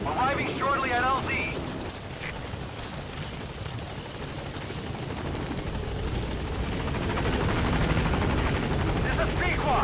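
Pequod helicopter from Metal Gear Solid V arriving at a landing zone: steady rotor and engine roar that builds gradually and grows louder toward the end, with radio voices talking over it.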